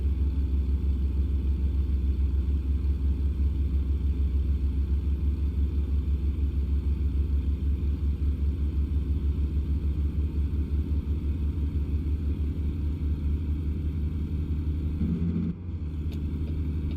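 A truck engine drones steadily in American Truck Simulator while driving through Nebraska, a loud, continuous low rumble that holds evenly before a brief dip and shift near the end.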